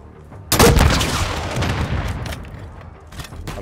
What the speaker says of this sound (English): I'm stuck on the stupid rocket launcher.